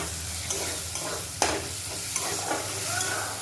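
Jackfruit fries in a pan as it is stirred, a close, steady sizzle with occasional scrapes and clinks of the spatula, no talking.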